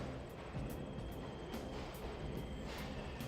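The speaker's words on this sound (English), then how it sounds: "They're totally catching a train." Train in the Persona 5 video game rolling along as a steady, low rumbling drone with faint periodic clicks, continuous and moderately distant, with no talk over it.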